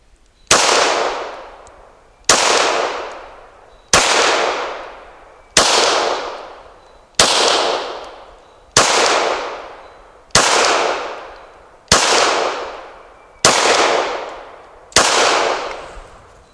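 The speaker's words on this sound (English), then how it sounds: "we're going to shoot at paper plates that are 6 inches" A Sig Sauer P226 Mk25 pistol fired at an outdoor range toward paper plates: ten sharp, loud shots evenly spaced about a second and a half apart, each ringing off in a short echoing decay, with no talking.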